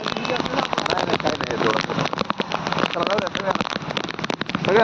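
Heavy monsoon rain pours onto a village farm lane in Antarwali, a dense, loud, unbroken hiss of drops and splashes with voices mixed faintly into the downpour.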